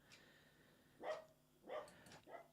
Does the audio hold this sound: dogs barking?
yes